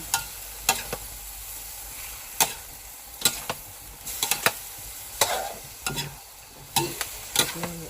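Cabbage stir-fried with fish sauce in a home pan for dinner: irregular clanks and scrapes of a spatula against the pan over a low, steady sizzle, with no talking.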